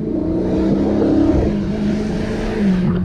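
A 2016 Dodge Charger R/T Scat Pack with a 392 cubic inch V8 and an eight-speed transmission drops down a gear on a test drive, its deep engine note rumbling loudly and steadily with a slight rise in pitch near the end.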